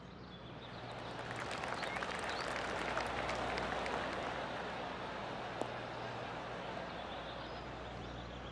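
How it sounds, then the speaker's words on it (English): Soft, distant golf claps ripple around the course in the PGA Tour 2K25 video game at Yoho River Golf Course, a faint, scattered patter of gallery applause that swells gently and then settles, with a quiet outdoor ambience beneath. "I can hear the golf claps around the course."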